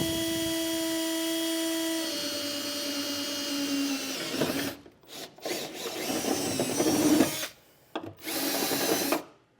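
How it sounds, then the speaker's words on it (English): A power drill whirs steadily, then bites in with bursts of grinding while drilling a pilot hole in a 2020 Ford F-250 truck, broken by short pauses as the trigger is released and squeezed again. "I'm going to start with the pilot hole"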